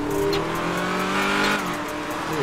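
A 702-horsepower 2021 Ram TRX truck engine revving hard while driving in GTA 5, a loud continuous roar with rising and falling pitch, with no talk over it.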